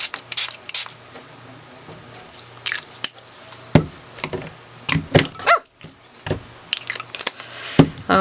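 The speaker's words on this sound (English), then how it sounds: "And I'm just going to spray through them with some different colors of spray." Short hissing bursts of an aerosol spray paint can come in irregular spurts, close by, with quiet gaps between them, spraying colors onto magazine paper.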